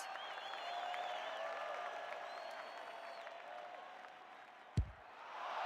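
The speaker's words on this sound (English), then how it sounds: "The crowd noise tells you all you need to know." A distant AFLW stadium crowd cheers and whistles in a broad, sustained roar, with a sharp thump partway through before the noise swells again.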